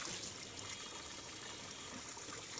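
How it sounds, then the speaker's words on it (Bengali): Fish heads being washed by hand in water, probably in a bowl or basin for a home-cooked dish. The steady, close splashing and sloshing runs without a break and with no voices. "তো এই জন্য আমি ভালো করে মাথাগুলোকে ধুয়ে নিচ্ছি বারবার করে।"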